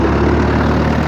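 A tractor engine runs hard while hoeing a maize field, giving a loud, steady, close diesel drone with a rough low rumble and no pause through the short stretch.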